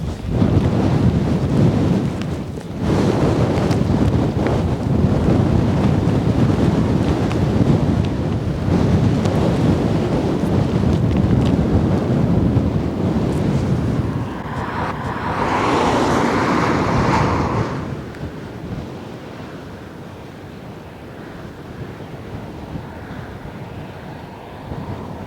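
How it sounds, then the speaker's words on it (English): Strong coastal wind buffets the microphone on an exposed shore, a heavy, steady roar that lasts most of the clip, then eases and softens toward the end, with no talking. "It's actually quite windy, so hopefully this mic will get a good, decent sound footage out of it."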